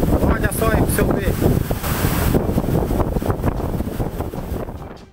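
Strong storm wind roars across a microphone on a river, with rushing water and waves, steady and loud throughout while someone speaks over it.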